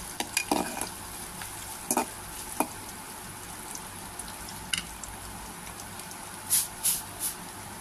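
Polao rice fries in a pan with softened onion, cardamom and cinnamon, while a spoon scrapes and stirs it in scattered strokes over a quiet, steady sizzle. No one speaks.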